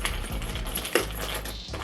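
Keys jangling and clinking as they are handled, metallic rattles with one sharper clink near the middle, close up and alone without talk.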